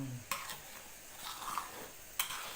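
Sago boiling in a pot is stirred, giving soft bubbling and a few sharp scraping knocks of the utensil against the pot, fairly faint and close.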